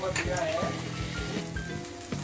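Manchurian gravy sizzles in a pan as soy sauce is added, a close steady frying hiss broken by stirring clatters.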